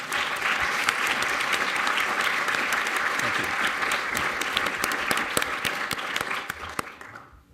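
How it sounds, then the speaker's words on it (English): A roomful of people gives a sustained round of applause after a panel discussion at an evening event with a senator, loud and steady before fading out at the end, with a brief spoken thanks over it. "Let's give everybody a round of applause one more time."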